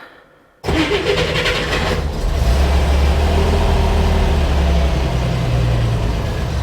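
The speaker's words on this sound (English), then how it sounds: "Let's try and fire it up." A Chevrolet Corvair engine cranks briefly, catches with a loud roar, then settles into a steady rumbling idle close by.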